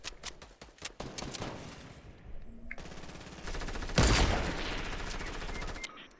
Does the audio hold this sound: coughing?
no